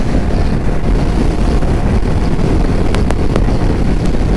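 A 2023 Kawasaki Versys 650 motorcycle cruising in fifth gear, heard as steady, loud wind and engine roar that stays constant throughout, with a few brief high-pitched clicks near the end.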